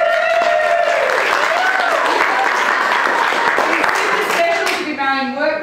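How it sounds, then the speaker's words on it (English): Steady applause fills an office boardroom at a workplace wedding, a dense continuous patter with voices calling and chattering over it before it tapers off. "A round of applause."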